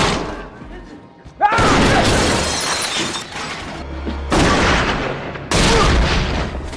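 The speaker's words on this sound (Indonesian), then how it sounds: "Sempat terjadi perlawanan dari kelompok Billy yang membuat mereka saling beradu tembak" Sudden heavy gunfire bursts and booming impacts fill a gang shootout in an action film, loud and harsh in several blasts separated by brief lulls, with a voice audible beneath.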